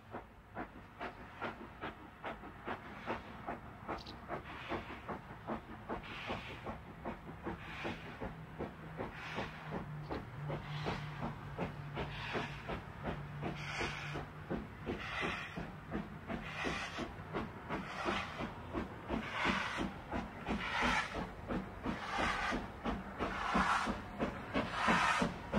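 Steam locomotive hauling an excursion train on the West Highland Line toward Mallaig in 1985, its rapid exhaust beats chuffing steadily and loudly throughout with hissing steam, rhythm quickening slightly toward the end.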